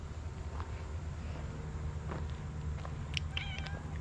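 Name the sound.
cats meowing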